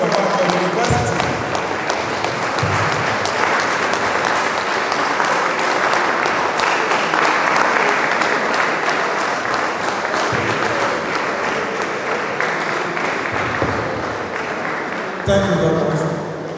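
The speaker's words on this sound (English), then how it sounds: "Please give him a round of applause." An audience of newly recruited university staff at an orientation workshop applauds the Director of Academic Planning, loud sustained clapping filling the room, continuous and dense before a brief swell near the end.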